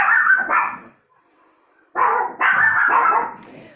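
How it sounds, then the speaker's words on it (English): Several sharp, loud barks from a small dog, a couple of quick yaps, a pause of about a second, then another close burst of three or four barks in a row. "there is a little dog outside barking"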